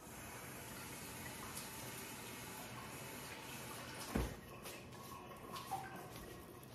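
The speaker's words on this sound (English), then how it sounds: "Let me rinse this usually spoon out." Tap water runs steadily into a kitchen sink as a spoon is rinsed, a soft continuous gush with a brief clink and splash partway through, heard close but faint.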